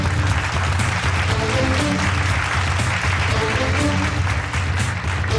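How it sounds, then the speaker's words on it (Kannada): Applause from a studio audience at a Kannada TV game show, a dense and loud wash of clapping that holds steady throughout. "ಎಲ್ಲರೂ ಕೂಡ ಜೋರಾದ ಒಂದು ಚಪ್ಪಾಳೆ"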